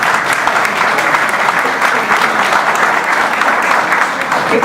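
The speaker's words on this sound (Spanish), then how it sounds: "Creo que arranqué aplausos aquí y aplausos allá también" A large audience claps steadily and loudly in a continuous, dense wave of applause at an Ecuadorian legislator's public accountability event in El Oro province.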